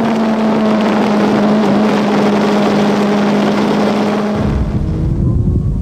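A loud, sustained sport motorcycle engine roar on a track drones steadily at high revs, then its pitch shifts lower near the end as the engine note changes.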